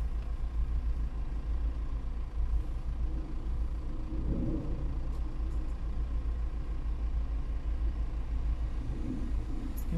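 Continuous low rumble of cars and trucks rolling along a busy Wrocław city street, steady traffic noise with engines droning at a moderate distance and no voices.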